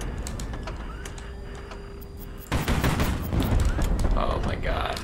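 Missile fire in the HighFleet video game comes as a sudden dense burst of rapid launches and explosions midway, loud and continuous after a quieter rumbling lead-in with faint game tones.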